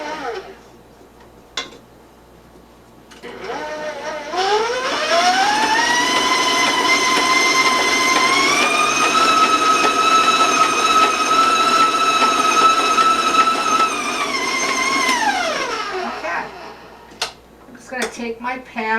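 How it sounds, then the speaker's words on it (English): An electric stand mixer beats cocoa gingerbread cookie dough. Its motor whines up to a loud, steady high speed for about ten seconds, then winds back down amid a few light clatters. "I'm going to turn up my mixer, so warn you about that sound."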